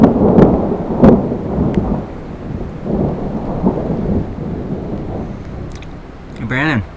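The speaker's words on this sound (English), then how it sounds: "That's a lot of rain right there." Heavy rain pours steadily in the Yosemite backcountry during a thunderstorm, with low thunder rumbles near the start and a brief voice near the end.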